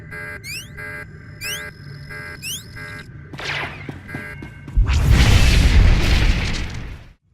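Sci-fi electronic beeps and descending zaps in SWTOR give way to a deep booming explosion with a long, roaring rumble as the Deathmark laser is destroyed, loud and close.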